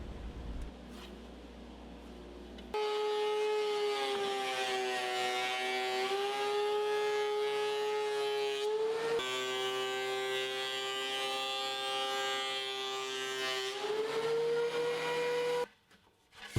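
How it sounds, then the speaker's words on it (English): Steady mechanical whine of a thickness planer running rough-sawn wood flat, a loud droning hum with shifting pitch as the board feeds through, then stopping near the end. "One side is good and flat, I can remove it from the sled and simply run it through the planer."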